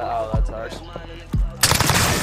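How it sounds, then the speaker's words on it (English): A cruise missile launches in a video game, with deep booming thumps and a sudden loud roaring burst of rushing noise close by at the end. "cruise missile away."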